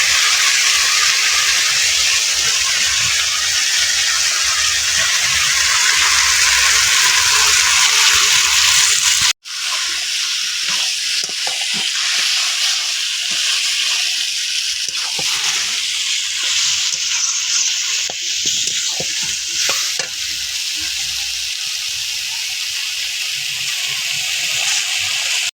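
Pieces of mutton hit hot oil cooked with chillies and spices, with a sudden thump followed by a loud, continuous sizzle and hiss that carries on steadily, no talking.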